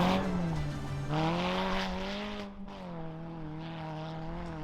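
A rally car on a stage races around a corner, its engine note climbing and falling through gear changes with faint tire squeal, loud and steady at close range.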